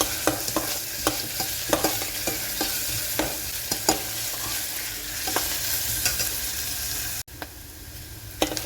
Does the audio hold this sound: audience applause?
no